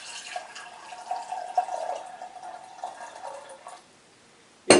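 Water pours into the lower pot of a Turkish double tea kettle, a steady trickling and splashing stream lasting several seconds before stopping, followed by a sharp metallic clank near the end.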